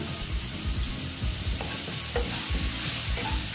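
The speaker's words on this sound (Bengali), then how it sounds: "এটা আস্তে আস্তে আমি ভেজে নিচ্ছি এখন টমেটোটা মানে তাড়াতাড়ি নরম হওয়ার জন্য আমি দিয়ে দিচ্ছি নুন" Tomatoes, garlic and ginger frying together in a pan with salt added, a steady close sizzle broken by repeated stirring scrapes throughout, with no voices.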